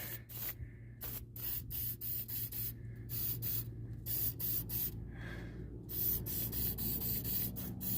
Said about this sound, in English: And this is penetrant.